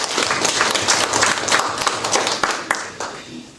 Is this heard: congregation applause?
yes